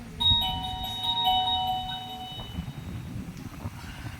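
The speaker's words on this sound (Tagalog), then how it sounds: "May dumurbel." A doorbell chimes in a home in Candaba, Pampanga, sounding two bright ding-dong tone pairs in the first few seconds, fairly loud and clear, then fading into room background with no talking.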